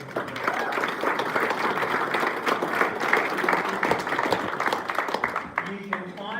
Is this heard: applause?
yes